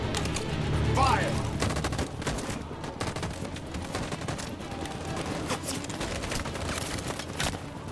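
Troops firing guns in Detroit Become Human, dense volleys of overlapping gunshots that run steadily for several seconds, with a voice heard faintly underneath.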